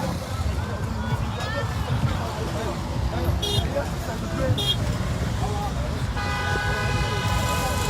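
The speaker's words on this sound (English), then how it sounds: "We still have vehicles moving past the toll plaza." Traffic rolling past the Lekki toll plaza during a street protest, a steady roadway rumble with crowd babble, occasional horn toots and a voice talking over it.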